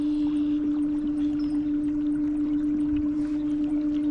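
A Newport NK180PRO electric trolling motor running at moderate speed on an Old Town kayak, a steady electric whine with constant water wash and no talking.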